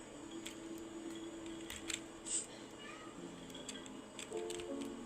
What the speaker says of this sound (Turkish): Kedi var.